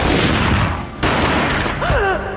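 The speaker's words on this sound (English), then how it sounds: "A gunshot boomed and she fell down in slow motion." Gunshot effect from a Max Payne graphic novel reading: a loud, close burst of blasts cut off sharply, then a second dense barrage, with a voice-like wail rising and falling toward the end.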